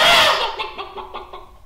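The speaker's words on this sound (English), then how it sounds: "A chicken let out a squawk." A chicken lets out a loud squawk up close, then a run of quick clucks that fade away.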